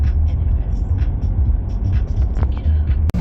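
Car cruising along a highway through Saskatchewan, heard from inside as a steady low rumble and road hum, with a faint voice now and then over it.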